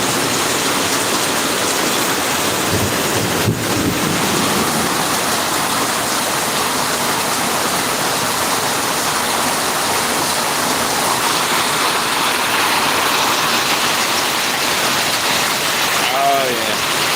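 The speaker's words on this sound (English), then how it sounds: "Oh yeah, just gonna enjoy the rain" Steady rain pours down outdoors, a dense continuous hiss that stays loud and even throughout, with a brief voice breaking in near the start and another near the end.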